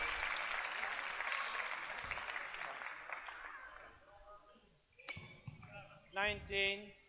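A crowd at the 2013 Scottish Open Grand Prix men's doubles badminton match applauds a good rally with dense clapping that swells, then fades over about four seconds before a commentator talks.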